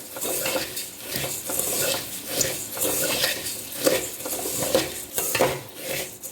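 Puffed rice being tossed with salt and turmeric in a pan, repeated scraping stirs and metallic clinks of a spoon in rhythmic bursts over a faint sizzle.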